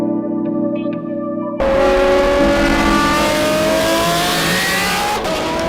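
A Lamborghini Aventador S engine revs hard and loud, rising in pitch with a sudden burst after a steadier idle-like drone at the start, continuing as one sustained high-pitched wail.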